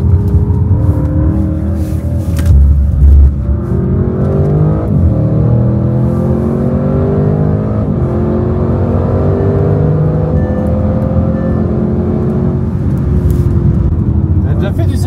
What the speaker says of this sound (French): On est en pneus d'hiver, frein d'origine, tout est d'origine sur la voiture.